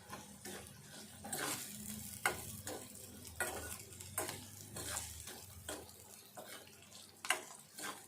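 Onion with salt and chili powder cooking in a pan for an old-style egg curry, with a soft steady sizzle broken by repeated scraping stirs and a few light clinks of a utensil against the pan.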